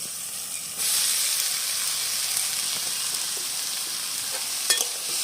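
Boiled potato fried with spices in a pan for a Bengali vegetarian dish: a steady, close hissing sizzle starts suddenly and continues, with a brief scrape of stirring near the end.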